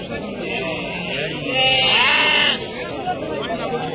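Young rams about thirty days old bleat amid a busy livestock market, with overlapping calls and a crowd of voices chattering around them; one louder, sustained bleat stands out in the middle.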